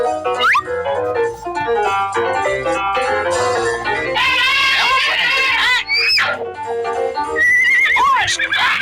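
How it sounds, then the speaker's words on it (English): A horse neighs and whinnies over a lively children's cartoon soundtrack with music, excited voices and clip-clopping hooves, loud and close. "Horse!"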